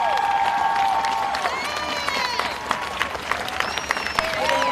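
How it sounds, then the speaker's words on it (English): A crowd at a peaceful street protest in Portland, Oregon, claps and cheers steadily, with whistles and shouts rising over the applause throughout. "I want you guys to give him a round of applause"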